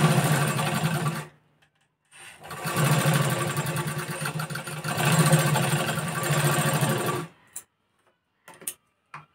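A sewing machine stitches a demo seam in two runs of fast, even mechanical clatter, each a few seconds long with a short pause between, followed by a few faint clicks as it stops.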